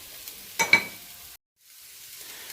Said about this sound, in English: Okay, so we have the peppers and onions cooking